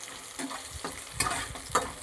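Onions frying in oil in a kadai, with a few bursts of stirring and scraping over a steady low sizzle, close by and fairly quiet, with no voices.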